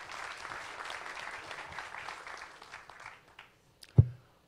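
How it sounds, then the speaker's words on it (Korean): Applause from the audience at a Korean startup mentoring forum, a steady round of many hands clapping that fades out over about four seconds, then a single sharp thump near the end. "박수 한번 부탁드리겠습니다"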